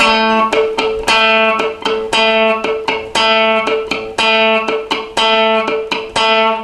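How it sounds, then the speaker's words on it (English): An electric guitar is picked with a plectrum in a fast repeating rhythm, sustained notes alternating with short muted, percussive dead-note clicks. "use the plectrum to pluck down on the note"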